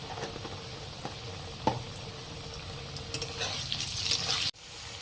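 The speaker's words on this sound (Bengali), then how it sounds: "অল্প হলুদ দিয়ে আলুটাকে ভেজে নেব।" Cut potatoes frying with a little turmeric in oil in a kadai, a soft steady sizzle with a few utensil taps and stirring, growing louder before cutting off abruptly.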